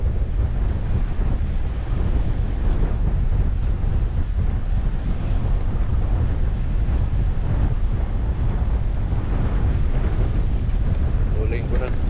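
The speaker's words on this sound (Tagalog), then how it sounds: "So windy. Yeah, too windy." Strong wind blows by the ocean in Bermuda, a constant heavy roar and buffeting across the microphone, with surf beneath it and no break in the noise.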